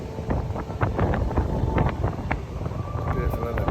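Gusting wind buffets the microphone with a constant low rumble and irregular crackling bursts. No one speaks.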